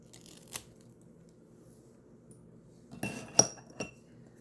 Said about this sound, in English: I just cut along the side here